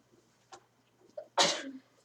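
A single sharp sneeze bursts out nearby after a couple of faint breaths, loud and sudden against an otherwise quiet room.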